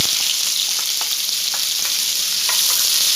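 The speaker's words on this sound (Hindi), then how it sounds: "तो अब इसके अंदर हम ऐड कर देंगे प्याज और इनको हम करेंगे हल्का सा ब्राउन" Onions frying in oil in a kadhai produce a loud, dense and steady sizzle, with a few faint scraping stirs mixed in and no talking.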